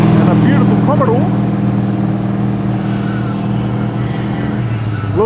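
A Holden Commodore XR8 utility rumbles with a steady low engine drone as it leaves a car show at Penrith Homemaker, with faint voices briefly heard over it.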